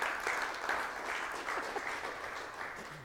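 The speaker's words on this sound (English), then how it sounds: "So please give a warm round of applause to Mark Sharpe" Steady applause from an evening audience at a Startup Grind Tampa Bay event, welcoming the guest speaker, dense and even throughout with no voices over it.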